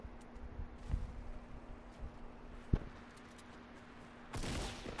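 Sparse gunshots sound in a shooter video game, a few sharp isolated cracks spread across a faint steady hum, with a brief louder burst near the end.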